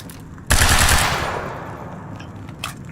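A short, sharp burst of automatic fire from an assault rifle in Quantum Break, loud and close, with a clattering volley followed by a fading echo and a faint trailing click.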